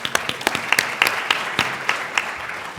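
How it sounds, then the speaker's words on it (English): Audience applause at a tech summit panel: a dense, steady patter of many hands clapping together for nearly three seconds, fairly loud and close, with no talk over it. "Round of applause."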